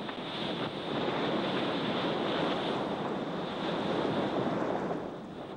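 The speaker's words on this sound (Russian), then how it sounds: "Однако и для некоторых из них велики ураганные порывы ветра." Hurricane-force wind gusts at sea during the 1993-94 Whitbread Round the World Race, roaring as a steady, loud, broadband rush mixed with surf, sustained throughout with no voices.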